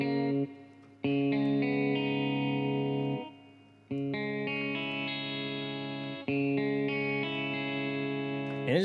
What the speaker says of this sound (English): It's just a simple real Strat with some effects on it.